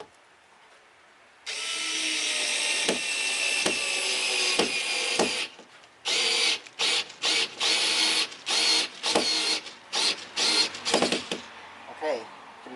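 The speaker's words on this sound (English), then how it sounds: "we're just going to drill them in" A Mi cordless screwdriver whirs in one long sustained run, then drives screws into a wall in a series of short bursts with pauses between, close by.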